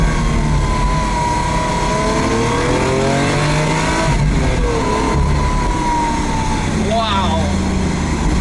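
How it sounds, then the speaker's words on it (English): Lamborghini engine with air rushing through a snorkel intake just behind the cabin, a steady loud drone with rising and falling engine tones while driving, a brief siren-like sweep near the end, and talk over it. "the noise of the air being sucked in through the snorkel just behind you, that's very, very prominent"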